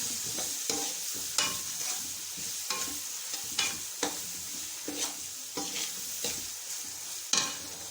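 Spoon stirring rice with turmeric and red chili in a pot for chicken biryani, a run of scraping, clattering strokes over a soft sizzle, steady and close with no voices.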